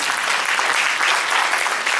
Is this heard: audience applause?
yes